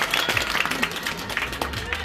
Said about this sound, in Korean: 큰 박수 한번 보내주시면 고맙습니다